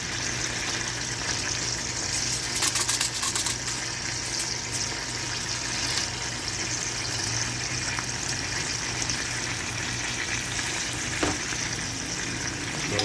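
Shrimp in a balsamic dressing sizzle steadily in a hot pan, a constant close frying hiss with faint stirring noises and no talking.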